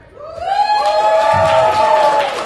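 Audience at the D20 Live Role-Playing 101 panel at Yeticon 2019 cheers and whoops over clapping, a loud crowd swell that rises quickly and holds steady, with a few high voices standing out.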